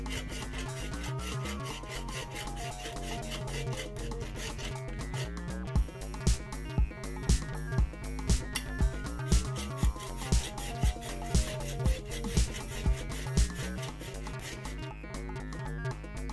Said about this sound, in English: So I got out a hacksaw and made a couple cuts across the filter.